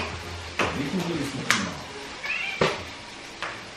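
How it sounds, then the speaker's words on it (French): A cat meowing indoors, several short close meows spaced irregularly, with a few sharp clicks between them. "mon chat bébé."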